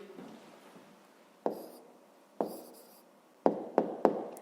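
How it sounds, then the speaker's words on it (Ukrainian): A pen writing an answer on paper, faint scratching strokes punctuated by several sharp taps as the pen hits the surface, close and alone without voices. "Ну а зараз записуємо тоді відповідь. Записуємо відповідь."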